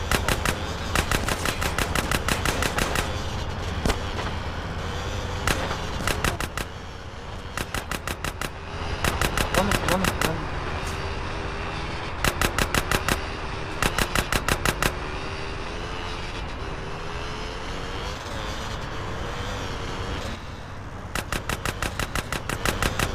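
Rapid bursts of automatic gunfire in the GTA San Andreas train mission, loud and close, firing in repeated stuttering volleys with short pauses over steady game noise.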